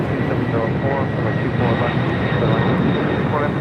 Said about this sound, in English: FedEx MD-11 taking off there on the south side